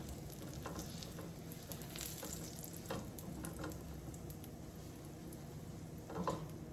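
Bread rolls toasting in butter in a pan for crab rolls give a soft, steady sizzle with scattered faint pops and ticks, quiet and unbroken, with no voices.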